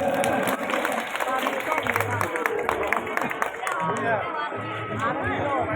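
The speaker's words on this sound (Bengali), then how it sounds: "হাততালি হোক সবাই মিলে জোরদার" An audience at a fair applauds together, and a steady wash of clapping continues under loud speech over a public address system and crowd chatter.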